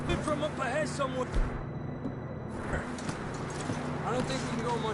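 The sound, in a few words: horses walking, hooves clip-clopping, from video game Red Dead Redemption 2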